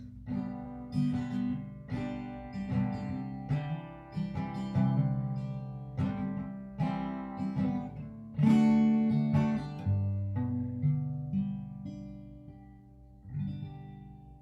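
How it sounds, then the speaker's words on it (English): Major chords are strummed on a guitar, a series of ringing chords struck every second or so with notes sustaining between strums, clear and alone. "So I'm going to play a few major chords,"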